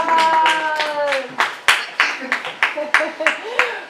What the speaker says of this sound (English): Hey, applause, applause, applause.